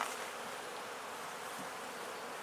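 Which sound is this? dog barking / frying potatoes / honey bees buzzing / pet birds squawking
honey bees buzzing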